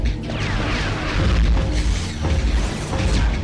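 Missiles blast into a giant robot in the Crash Twinsanity video game, loud booming impacts and crashing bursts over a churning mechanical rumble, several hits in quick succession.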